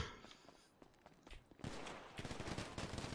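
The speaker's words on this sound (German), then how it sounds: "Warum schießen die denn?" Video game gunfire in a prison break scene, with rapid bursts of shots growing louder after a quieter stretch, with scattered thumps mixed in.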